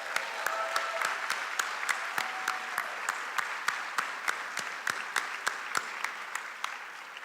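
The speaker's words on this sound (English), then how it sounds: "Let's give our seniors a big round of applause." Audience applause for graduating seniors at a high school senior academic awards assembly, a steady dense wash of clapping with sharper individual claps standing out throughout, moderately distant in a large hall.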